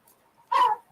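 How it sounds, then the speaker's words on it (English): A single short dog bark, fairly close and clear, rising out of a quiet indoor room with no talking. "I don't know why my dog is barking right now."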